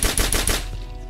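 Rapid burst of about four gunshots in a Skibidi Toilet video game, loud and evenly spaced, then trailing off into a short fading echo.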